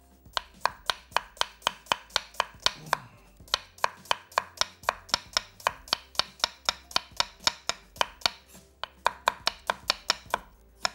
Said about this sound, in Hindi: यहाँ पे ले लेते हैं एक अदद दरमियानी प्याज और इसको हमने बारीक स्लाइस कर लेना है